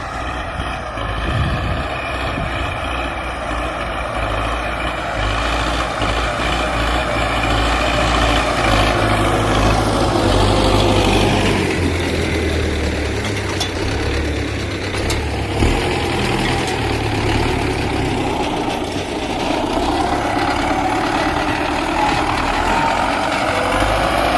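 A heavy diesel tractor engine rumbles steadily throughout, loud and close, its low drone rising and shifting slightly as the tractor ploughs a field.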